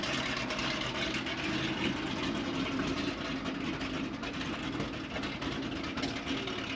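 A 1973 ZIL MMZ-555 dump truck's engine runs rough and uneven, a continuous, close, low rumbling drone with slight unsteady pulsing throughout.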